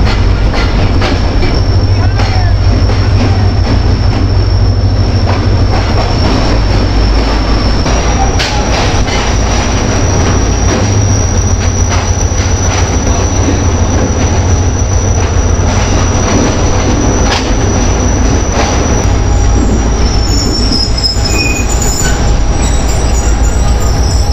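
A train pulls into Rohri Junction railway station at night, a loud steady rumble of wheels and rail with intermittent clatter and a rising squeal toward the end.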